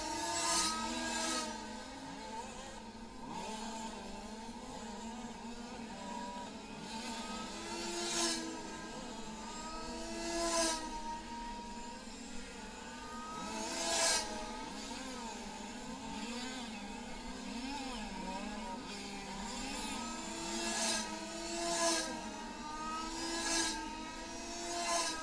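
Several large-scale RC race cars lapping a racetrack together at a finals event, their buzzing engines rising and falling in repeated passes over a continuous distant drone.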